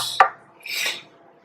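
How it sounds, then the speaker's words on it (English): A small plastic tool pushes aquarium soil into gaps during an aquascape build, giving a quick scraping click followed by a brief soft gritty rub, close and quiet with no talk. "I'm using this little bit of a plastic contraption so that I can get the soil into the gaps."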